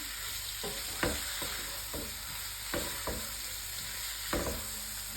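Fish and other food fry gently in oil in a home kitchen pan, a low steady sizzle broken by several sharp clacks of a spatula stirring and scraping, quiet and close with a constant hum behind.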